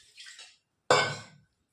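Rinse water poured into dosa batter: a soft splashy trickle, then a brief louder pour that fades within half a second, close and quiet.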